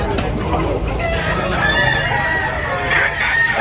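Roosters crowing amid a busy market in Tabunok, Cebu, several long calls rising over a steady crowd din, one near and loud, others farther off, with chickens clucking underneath.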